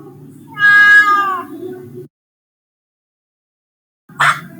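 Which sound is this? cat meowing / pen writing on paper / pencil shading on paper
cat meowing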